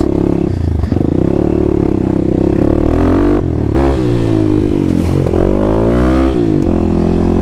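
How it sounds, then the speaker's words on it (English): A fully uncorked 2021 Kawasaki KLX300 dirt bike with a Power Commander on a wet trail ride, loud and close, its single-cylinder engine revving up and down through several throttle swells with clattering and scraping underneath. "Alright, first trail ride. KLX300 basically fully uncorked here."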